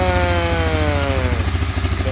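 A 1985 Honda Big Red 250ES three-wheeler running just after a carburetor rebuild, its small engine putting out a steady, close, slightly clattery idle with a brief rising rev early on, no voices.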